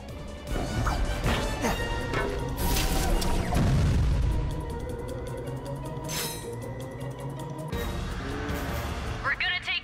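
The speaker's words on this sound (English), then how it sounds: "When the cannon charges, open fire." Loud crashing booms and impacts from a Ratchet & Clank battle, a defense cannon firing at warships, with heavy blasts and whooshes layered over a voice speaking.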